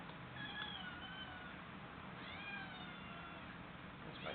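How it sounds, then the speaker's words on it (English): A domestic cat whines and meows in a workshop where a Remington No. 7 keylever typewriter is being worked on. A few drawn-out cries come through faintly, at some distance, over a steady background hiss. "That's my dad's cat that's whining there."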